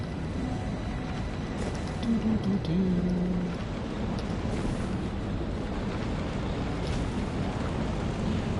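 Roaring storm wind with a low rumble of thunder around a giant twister in Elden Ring, a steady dense wash of noise throughout with a brief swell near the middle.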